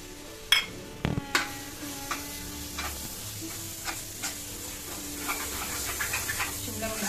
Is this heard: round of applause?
no